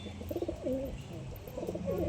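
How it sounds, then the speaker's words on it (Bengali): Pigeons in a loft in Kolkata coo in soft, low, repeated phrases over a steady background hum, close by and moderately quiet, with a few higher chirps mixed in. "পায়রাগুলো একটু চমকে আছে।"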